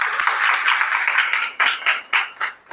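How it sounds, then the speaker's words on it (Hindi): An audience at a homeopathy award ceremony applauds as a doctor is called up, a dense burst of clapping that thins toward the end into a few separate, louder claps. "आपकी ज़ोरदार तालियों में"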